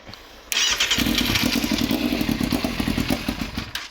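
A Yamaha FZR 600 motorcycle engine cranks and catches about half a second in, then runs loud and close with a rough, uneven, clattering idle that keeps going to the end.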